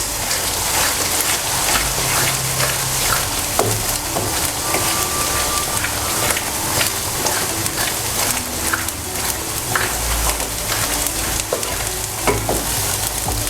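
Vegetables for a vegetarian nasi lemak fry in hot oil, giving a dense, steady sizzle with occasional stirring clatter from a utensil, close and continuous throughout.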